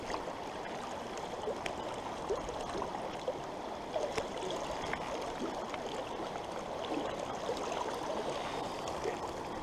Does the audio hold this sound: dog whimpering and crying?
no